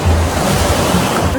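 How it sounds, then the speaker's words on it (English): Warm-water ocean surf washing onto a beach, a dense continuous roar close to the microphone with some wind noise and no voices. "Okay guys, so I am currently on the beach."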